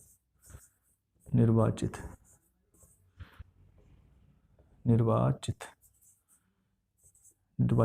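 A pen scratches out notes in short strokes, softly and close, between bursts of someone speaking.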